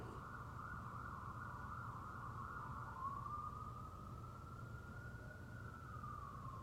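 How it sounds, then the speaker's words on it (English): A distant siren wails faintly across the city, its tone rising and falling slowly over a low hum of background noise. "So sorry about the sirens, that's what you hear when you're in the city."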